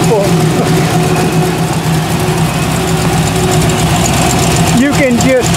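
A 1957 Chevrolet Bel Air station wagon engine idling, a loud steady low rumble throughout, with a voice heard over it near the end.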